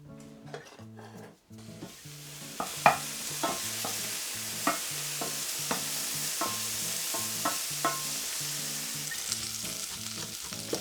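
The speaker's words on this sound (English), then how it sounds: "The veggies are beginning to sizzle" Steady crackling sizzle of finely chopped vegetables frying lightly in olive oil in a pan, with soft scraping stirs and occasional clicks of a utensil against the pan.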